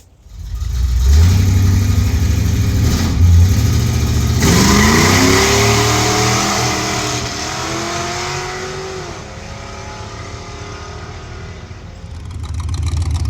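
A freshly installed engine in an S10 Blazer drag truck barks to life and revs hard, rising and falling through several loud, close throttle blips before settling into a rough, lumpy idle.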